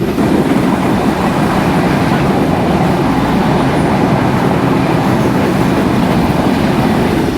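Chilahati Express train running past Akkelpur railway station, a loud, steady rumble of wheels and carriages that holds constant throughout, heard close from on board with no talk.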